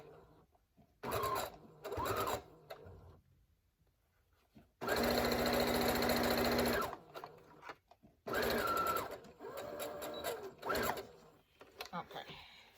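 A sewing machine stitches face-mask fabric in short bursts with pauses between them, then runs in one long, steady, loud stretch before several more short runs.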